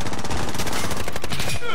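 Rapid automatic gunfire bursts in a Call of Duty: Modern Warfare match, loud and dense, with a player's voice talking over the shooting.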